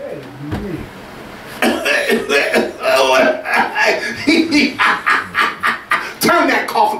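During a church sermon, a preacher gives a short cough, then breaks into rhythmic chuckling, voiced bursts that run close and loud to the end.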